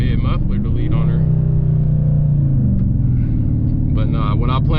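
Loud, steady engine and exhaust drone from a 2018 Dodge Charger R/T with a mid muffler delete, heard from inside during a drive in track mode, with a downshift and harmonic rumble holding throughout and a voice speaking over it.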